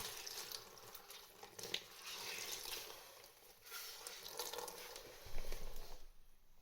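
Water drains and trickles out of an LG washing machine opened up for a bearing replacement, a faint, steady pouring with small splashes that stops near the end.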